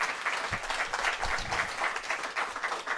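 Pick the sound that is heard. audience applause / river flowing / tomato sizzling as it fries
audience applause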